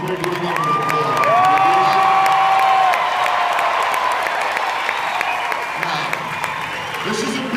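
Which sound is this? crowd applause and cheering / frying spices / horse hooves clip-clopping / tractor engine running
crowd applause and cheering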